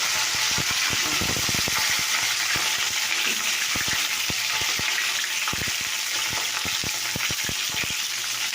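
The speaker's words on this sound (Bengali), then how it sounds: "তো দেখো এখন এগুলো ভাজা হচ্ছে" Cut cauliflower frying in a pan, a steady loud sizzle of hot oil throughout with intermittent clicks and stirring taps, no talking.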